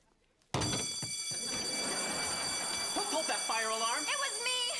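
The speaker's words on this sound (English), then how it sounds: "And hey, thanks for that fire alarm." A school fire alarm bell rings loud and continuous in a scene from the iCarly TV show, starting abruptly and holding steady throughout, while voices talk over it.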